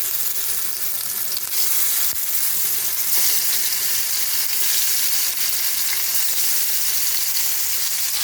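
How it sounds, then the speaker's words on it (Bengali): Boal fish frying in hot oil in a wok, the pan about to be covered with a lid, gives a loud, steady crackling sizzle that runs unbroken throughout, close and alone with no voices. "মারাত্মক ফাটে বোয়াল মাছ, তার জন্য আমি ঢাকা দিয়ে ভাজবো"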